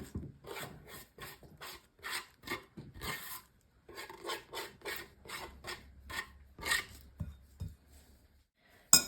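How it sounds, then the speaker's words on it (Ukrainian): Fork mashing cheese with garlic in a bowl, a series of short scraping and rubbing strokes in an uneven rhythm, close and fairly quiet. "І добренько вилочкою розминаємо"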